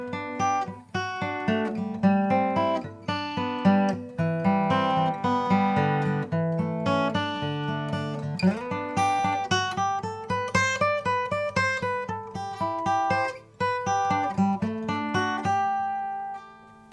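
Bluegrass solo played over the fiddle tune Blackberry Blossom: a bright, quick run of plucked melodic notes in steady phrases with an answering second half, close and clear, with no talking.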